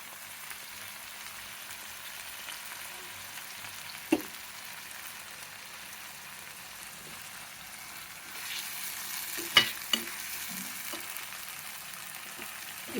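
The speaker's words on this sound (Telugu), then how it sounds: "కొద్దిగా వేగనివ్వాలండి. ఇది ఈ వెల్లుల్లి పచ్చివాసన పోయేంత వరకు వేగాలన్నమాట." Garlic frying in oil for masala oats, a faint steady sizzle running throughout, with a few sharp stirring clicks and a slightly louder sputtering stretch near the end.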